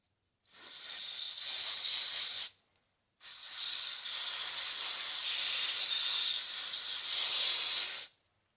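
Two bursts of aerosol spray hissing up close inside a Cub Cadet 1882 garden tractor's key switch during an electrical overhaul, a short one followed by a longer sustained spray, with a brief silence between.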